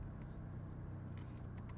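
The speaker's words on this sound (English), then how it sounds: "They hear the car, they'll hear the blinkers, they'll hear other cars honking." Steady low engine rumble of a car driving on a road, with a faint clicking like turn-signal blinkers near the end; a continuous, fairly quiet interior drone with no talking.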